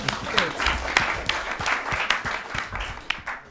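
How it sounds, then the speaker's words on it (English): Audience at a science panel clapping after a talk, a scattered, moderate round of applause with distinct individual claps. "You can applaud if you wish."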